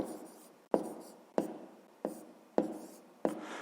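A pen or pencil writes a fraction by hand on paper, making six sharp taps at a steady pace, each followed by a short scratchy stroke. The sound is close and quiet, with no speech.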